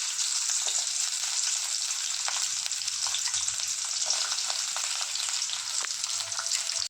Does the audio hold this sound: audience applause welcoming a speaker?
no